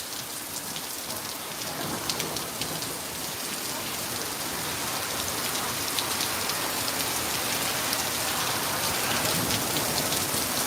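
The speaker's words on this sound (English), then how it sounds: "the torrential rain is going to be another problem here" Steady, heavy torrential rain pouring down continuously in a Walgreens parking lot, a dense hiss of drops hitting surfaces close by with no break.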